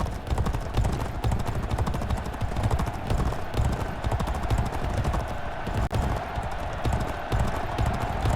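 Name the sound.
galloping racehorses in the G1 Jockey 4 video game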